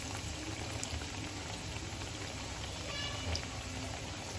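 Bread pakora frying in oil in a frying pan makes a faint, steady bubbling fizz with small scattered pops, heard alone without talk.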